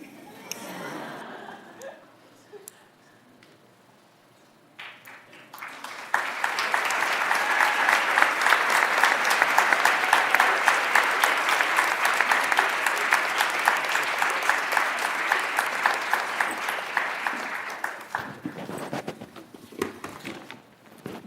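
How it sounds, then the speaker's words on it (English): Sustained applause at a school board meeting honoring kindergarten and early childhood educators, a crowd clapping loudly and evenly for over ten seconds after some quieter murmuring, then tapering off. "Let's hear another round of applause for our kindergarten, early childhood educators."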